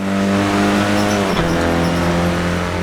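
Renault Clio Cup race car driven around a lap in a sim racing game, its engine droning loud and steady with a shifting pitch midway as it changes gear, a brief tyre scrub in the middle.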